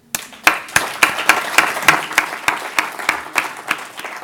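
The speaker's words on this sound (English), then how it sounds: "please give ourselves a big round of applause" A small crowd claps in applause, with sharp, distinct hand claps repeating in a loose rhythm close by, then thinning out toward the end.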